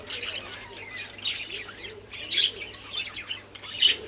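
Budgerigars and lovebirds in a pet shop give repeated bright chirps and sharp squawks, close and moderately loud, in an irregular busy chatter over faint room hum.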